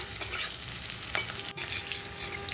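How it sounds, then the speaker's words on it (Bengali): Chopped capsicum fries in oil in a pan for a paneer dish, giving a steady, close sizzle with bright crackling and occasional scraping stir strokes. "সেগুলো ওই তেলেই ভালো করে ভেজে নিলাম"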